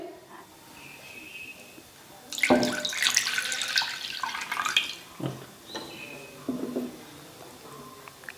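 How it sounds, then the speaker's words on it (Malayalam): Thick coconut milk is poured into a bowl in a burst of liquid splashing and gurgling that tapers into smaller pours and drips, preceded and followed by quiet kitchen sounds. "ആദ്യമായിട്ട് 1 കപ്പ് കട്ടി തേങ്ങാപ്പാൽ എടുക്കുക. അത് ബൗളിലേക്ക് ഒഴിച്ചിട്ട്"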